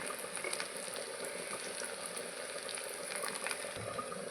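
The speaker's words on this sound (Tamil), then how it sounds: "எண்ணெய் காஞ்சதும் வந்து வெங்காயம் நறுக்கி வச்ச சின்ன வெங்காயத்தை வந்து" Continuous hiss and crackle of shallots frying in hot oil, steady and fairly close, with brief spitting pops throughout.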